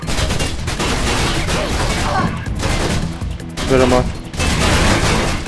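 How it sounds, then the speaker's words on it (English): Gunfire from the Mirror's Edge video game, with rapid bursts of shots fired through vents, a loud continuous fusillade broken by brief pauses, under a short spoken remark. "They're probably gonna shoot through the vents as well"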